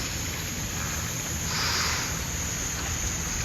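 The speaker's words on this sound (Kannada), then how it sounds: "ಸೊ ಇವಾಗ ಬೋಟ್ ಬಂತು" A boat pulling in at night at a waterside spot in Kannur, its engine a steady, even drone with a gentle swell in the middle, and no voices.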